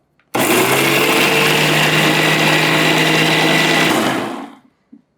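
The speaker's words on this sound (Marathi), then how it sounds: "छान वाटून घ्यायची अजिबात गडबड नाही करायची ओबडी बोबडी नाही करायची एकदम एकसंध करून घ्यायची" A mixer grinder whirs loudly and evenly for about four seconds as it blends chutney smooth, then winds down and stops, followed by a brief clunk; no talking.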